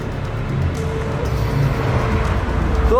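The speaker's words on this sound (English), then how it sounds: "the driver of the sedan decides to drive his car down the stairs" A black sedan drives down a pedestrian staircase, its engine a steady rumble with bumps and scraping, ending in a rising whine.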